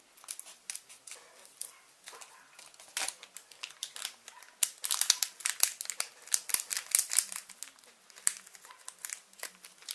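Crinkling plastic packaging with sharp scissor snips and rustling as a packet is cut open, close and busy, in irregular bursts throughout with no voices.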